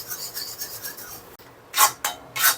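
Gram flour (besan) is stirred and rubbed into a cooking mixture for a ritual meal, giving a soft continuous scraping and then three louder rasping strokes near the end, close and with no talk.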